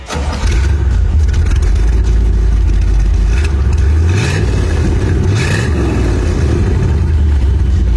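A 1964 Corvette Stingray engine runs loud and close, settling into a deep idle and then rising in a couple of revs, its low rumble steady beneath the swells.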